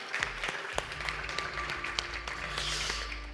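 Conference audience applauding at a safer gambling event, a steady wash of clapping hands with a few sharper individual claps, moderately close and continuous for a few seconds.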